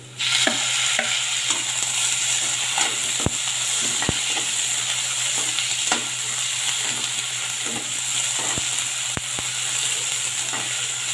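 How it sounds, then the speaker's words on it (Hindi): Browned onion and a small tomato frying in a pan for besan and yogurt pakora curry, a steady soft sizzle with frequent stirring scrapes and taps from a spoon, close and continuous with no talking. "हल्का इसको सॉफ्ट होने तक भूनेंगे"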